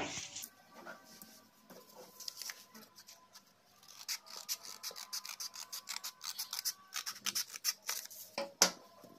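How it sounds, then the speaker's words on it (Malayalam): Scissors snip through paper while a paper pencil box is being made, giving a string of close, quiet crisp cuts and rustles that grow busier and more rapid toward the end, with no talking. "എന്നിട്ട് ബാക്കി കട്ട് ചെയ്യാം."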